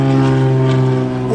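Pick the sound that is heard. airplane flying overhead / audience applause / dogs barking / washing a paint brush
airplane flying overhead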